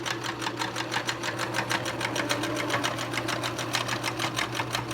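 A sewing machine runs steadily in a fast, even rhythmic chatter while zigzag stitching a pleated fabric face mask with a filter pocket, close and continuous without pause.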